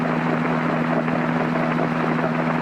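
Robinson R22 helicopter engine and rotor during a lesson flight, a steady droning hum with a strong low tonal whine and faint rhythmic rotor pulsing, close and continuous with no talk.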